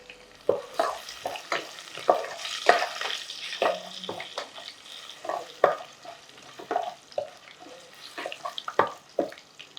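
Cumin, urad dal, mustard seeds, garlic and dry red chillies fry in oil as a tempering for Chennai-style sambar. A spoon stirs and scrapes them in irregular clattering bursts over a soft sizzle.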